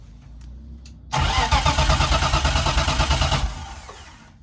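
A car's starter cranks in first gear with the clutch released, giving a loud, rhythmic churning that lasts about two and a half seconds before stopping abruptly, with quiet background before it.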